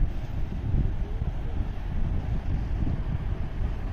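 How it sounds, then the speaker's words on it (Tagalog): Rushing river current in Switzerland, a steady, loud low roar of moving water that stays constant throughout, blended with some wind buffeting on the microphone and no voices. "Oh, ang lakas ng tubig."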